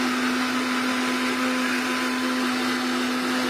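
A mixer grinder blends strawberry juice, a steady loud whirring hum with a strong motor drone, running continuously without pause and with no talking.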